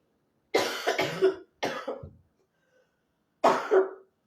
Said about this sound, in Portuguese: Uma tosse aqui que deu.